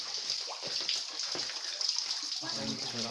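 Water pours steadily from a spout inside Goa Lawa cave in Purbalingga, a continuous splashing gush heard nearby, with people talking over it.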